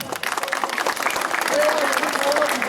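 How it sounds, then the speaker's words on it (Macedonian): Crowd applause for a sponsor at an outdoor Ilinden festival in Rusinovo, a dense patter of clapping that swells and grows louder, with voices mixed in underneath. "ве замолувам за голем аплауз за Електрик Диспеч Америка"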